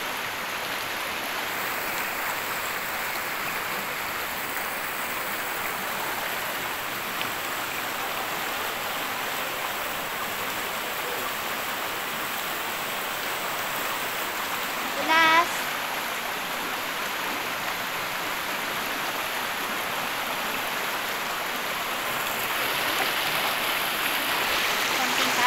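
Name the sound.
water flowing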